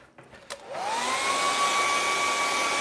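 A hair dryer blows on wet acrylic paint. After a few small clicks and handling knocks it switches on and spins up into a steady, loud, close whine that holds to the end.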